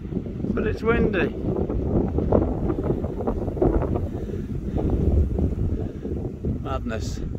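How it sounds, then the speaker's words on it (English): Strong wind buffets the microphone on Parkhouse Hill and Chrome Hill, a constant roaring rush with brief voices breaking through. "but it's windy."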